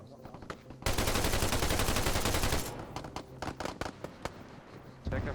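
Gunfire in the tactical shooter game Insurgency: a sustained burst of rapid automatic fire, loud and dense, followed by scattered single and clustered shots at varying distances, ending with another loud burst.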